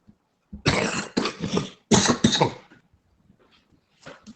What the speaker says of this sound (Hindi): खांसी अटकी हुई थी, उसी कारण आवाज क्लियर नहीं आ रही थी।